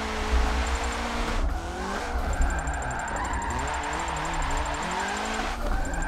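Volvo engine revving in a racing video game drift session, gears dropping from fourth to third with the revs rising and falling steadily over continuous road and tire noise, no voices.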